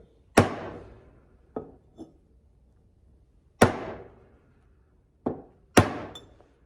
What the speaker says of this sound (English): In case you're wondering what to use to drive the seal in, well, the cap to your gas for your welder works pretty good